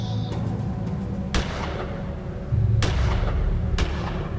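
Gunfire in the video game Gemini Rue, a few sharp booming shots spaced about a second apart over a constant low hum of game ambience, no voices heard.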